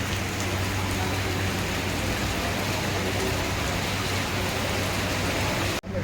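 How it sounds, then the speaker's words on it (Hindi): Heavy monsoon rain pours down in a village, a dense, loud, steady hiss of drops on surfaces that fills every moment before cutting off abruptly at the end. "बहुत तेज़ बारिश भी हो रही है यहाँ पे, आपको दिखाते हैं।"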